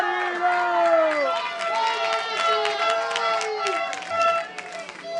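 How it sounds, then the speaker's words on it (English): Home crowd cheering and shouting at an amateur Italian football derby match, loud and continuous with whistles and calls rising over a steady roar, while a commentator talks over it. "You could hear the crowd cheering on for Marino, willing him towards the goal."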